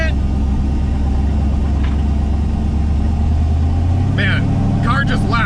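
A Chevstang drag car at Great Lakes Dragaway rumbles loudly nearby, its deep engine roar building toward a launch, while people talk and shout over it near the end.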